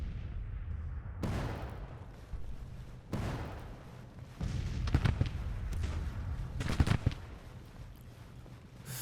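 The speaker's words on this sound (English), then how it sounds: "First infantry fire going on in the forest there." Infantry gunfire crackles in a forest during a video game battle, irregular bursts of shots and booming volleys at a distance, rising in density midway with several sharper reports near the end.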